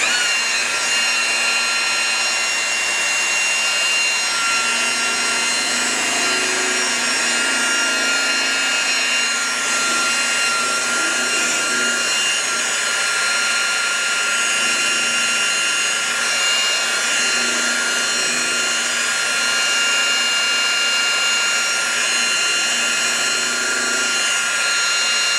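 Wet polishing pad spinning on car paint, a steady high-pitched machine whine held at constant loudness throughout, close and continuous with no talking.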